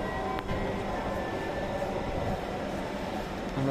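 Steady rumble and rolling hum of a Dhaka metro rail train running between stations, continuous and fairly loud from start to finish with no voices.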